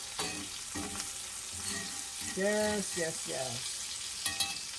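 Ribeye steak and onions sizzle steadily in a pan, a continuous hiss with occasional stirring clinks, while someone talks briefly over the frying.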